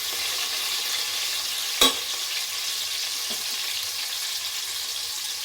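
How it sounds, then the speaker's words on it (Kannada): Onions fry in a pan for tomato rice bath, a steady sizzle stirred by hand with one sharp clatter early on, no voices. "ಇವಾಗ ಇದು ಆನಿಯನ್ ಫ್ರೈ ಆದಾಗ, ಇದು ಸ್ವಲ್ಪ ಫ್ರೈ ಆದಾಗನೇ ನಾವು ಈಗ ಕೈಯಲ್ಲಿ ಈ ಥರ ಮಾಡ್ತಾ ಇರಬೇಕು."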